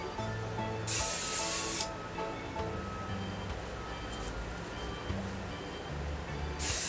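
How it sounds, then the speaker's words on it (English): A short hissing burst of hairspray sprays from an aerosol can, followed later by the start of a second spray, over steady background music. "all I'm going to do is give it a nice spray"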